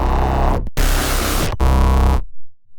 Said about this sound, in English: I'm just playing the exact same note on a sine wave over and over again.